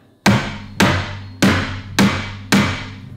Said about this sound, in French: Maintenant, il s'agit d'enfoncer les clous si je suis satisfait de mon résultat. Je reprends mon marteau de tapissier